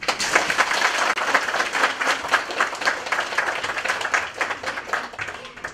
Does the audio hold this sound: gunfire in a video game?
no